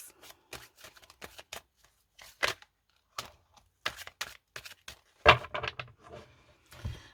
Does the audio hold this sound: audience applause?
no